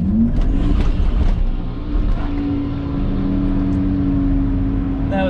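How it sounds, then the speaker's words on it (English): A 2.7L turbo GMC Sierra/Chevy Silverado pickup launches at a drag strip, its engine roaring loud and close with tires spinning, a steady droning howl that eases slightly after the first second and then holds. "That was a whole bunch of wheels spin."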